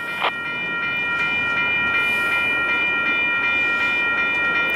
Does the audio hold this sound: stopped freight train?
yes